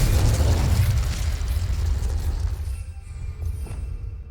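A Confringo blasting curse explodes in Hogwarts Legacy on PS5: a loud, close boom at the start that rumbles and slowly decays over several seconds, with no talk.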